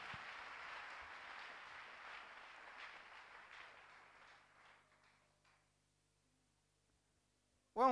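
Applause from a church congregation praising the Lord, a broad wash of clapping that holds steady and then fades away to near silence, with a brief sharp sound at the very end.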